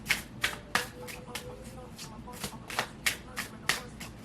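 Tarot cards are shuffled in a series of crisp riffling bursts, about a dozen quick flicks in an irregular rhythm, close and fairly quiet.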